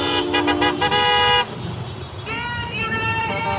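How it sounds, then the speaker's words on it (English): Car horns honking from highway traffic during a truckers' convoy protest in British Columbia: repeated loud toots and longer blasts, one after another, over a steady roar of passing vehicles. "some of the honks we're hearing are all the way from the highway"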